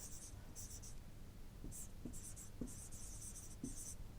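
Marker strokes squeak and scratch on a board during a chemistry lecture, coming in short bursts with gaps and heard up close against a steady background hiss.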